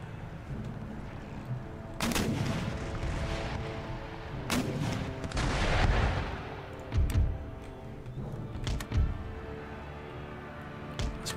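Repeated booming artillery and gunfire bursts from a Napoleonic-era battle in the strategy game Empire: Total War, heavy volleys around two, five and seven seconds over a constant rumbling battlefield din, with sharp cracks scattered between.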